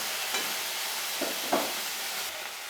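Puti fish sizzle in hot oil after being flipped to the other side, a constant close frying hiss with a few sharper pops and spatters.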